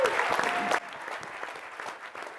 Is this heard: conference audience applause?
yes